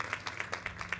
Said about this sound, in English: I feel like we should maybe clap again before you give a couple of words.